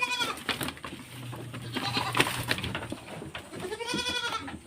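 Goats bleat several times, with layered wavering calls overlapping, close by amid shuffling and rustling noises.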